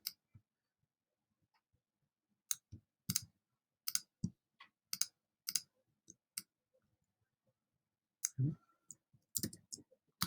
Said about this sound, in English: If you want to select multiples, I'm just holding down Shift and then clicking.